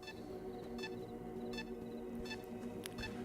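An artifact detector in the video game S.T.A.L.K.E.R. 2 gives a series of short electronic beeps, roughly four evenly spaced pings coming slightly faster near the end, over a low ambient drone with no talking.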